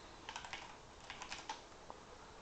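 Keys clatter on a computer keyboard as text is typed, a quiet, close run of light irregular clicks in short bursts over a soft background hiss.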